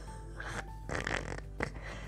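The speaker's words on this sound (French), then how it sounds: "C'est le chat ou c'est le chien qui ronfle?" A sleeping cat or dog snoring softly indoors, with low rumbling breaths rising and falling over about two seconds, faint under a steady room hum and brief tonal background sounds.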